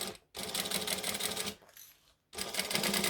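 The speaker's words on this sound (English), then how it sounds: "I'm going to clip and baste it into place." A sewing machine bastes layers of fabric together, running in two steady, close, loud bursts of fast rhythmic stitching with a short pause between them and no voices.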